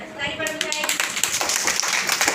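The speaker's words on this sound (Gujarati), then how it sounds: "તાળી પાડો થાય" Children clapping in a classroom during a lesson about vegetables, a burst of quick close claps following a teacher's speech, with voices continuing over them.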